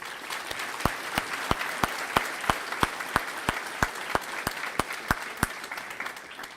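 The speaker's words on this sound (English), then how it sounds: "Let's then give them all a round of applause as a sign of our gratitude." Applause from a graduation ceremony audience for the Class of 2023 career center passport ceremony, sustained clapping with sharp individual claps standing out throughout, steady and moderately distant.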